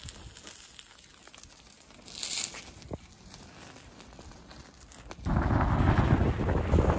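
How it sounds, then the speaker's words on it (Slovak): Wind buffets the microphone outdoors beside a burning torch with rough, gusty rumbling, growing stronger and louder toward the end, with some crinkling noises mixed in. "Fúka vietor, fakla stále horí."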